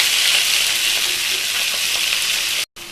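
Red amaranth greens fry in hot oil seasoned with black cumin, a loud continuous hiss close to the pan that cuts off abruptly for a moment near the end.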